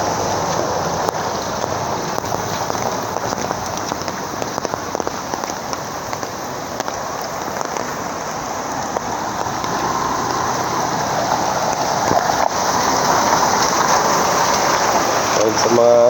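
Heavy, nonstop rain falls on a damaged road during flooding, a steady dense wash of drops that stays loud and even throughout the whole stretch.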